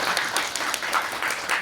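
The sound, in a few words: studio audience applause for guest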